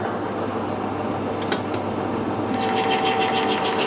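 Steady mechanical whir of a lathe turning a metal part for a vintage tractor radiator cap, chips peeling off in long stringy curls, with a brief light rattle partway through and a higher tone joining near the end.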